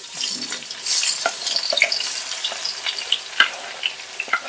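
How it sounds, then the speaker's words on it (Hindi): Onions sizzling and crackling in hot oil in a pan for a chana pulao, a steady close frying hiss with scattered pops and a few soft stirring clinks, no voices. "पहले तेल गर्म हो जाए फिर इसमें प्याज डालेंगे।"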